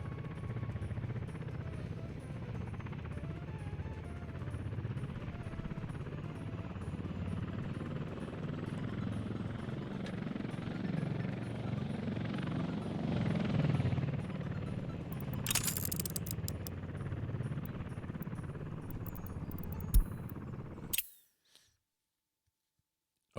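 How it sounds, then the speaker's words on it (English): A helicopter carries an excavator in the Soviet-era city-building game Workers & Resources: Soviet Republic, its low steady rotor drone continuing for about twenty seconds with a few faint clicks before it cuts off. "Excavator is loaded in the helicopter to be carried to the construction site."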